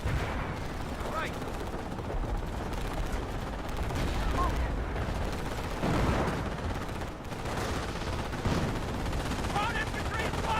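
Heavy gunfire during the D-Day landing battle, with machine-gun bursts, rifle shots and booming artillery crackling continuously in the distance while soldiers shout beneath it.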